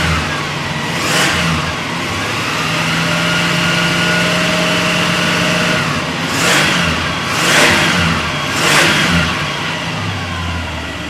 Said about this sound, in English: I'll give her some revs so you can see that there's no smoke